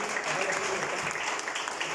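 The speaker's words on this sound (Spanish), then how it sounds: "Denle un aplauso a Dios" Congregation applause at a church gathering, a steady dense wash of many hands clapping at moderate volume throughout, with faint voices mixed beneath.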